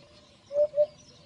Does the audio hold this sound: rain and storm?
no